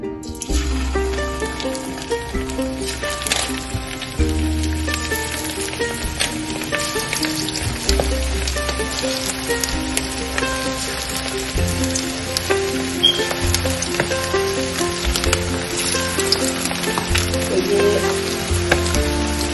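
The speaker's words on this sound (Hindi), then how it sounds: "अब हम इसमें अपनी चिकन को फ्राई करने लगे हैं।" Chicken 65 pieces fry in hot oil in a pan, giving a dense, steady sizzle that stays loud throughout with crackling spatters over the continuous hiss.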